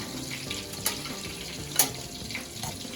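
Chicken cutlet for chicken Parmesan frying in a pan, giving a steady soft sizzle through the whole stretch with a couple of sharp brief clicks or spatters, fairly quiet and with no talking.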